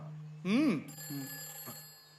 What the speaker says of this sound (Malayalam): ആ ഫോൺ എടുത്തേ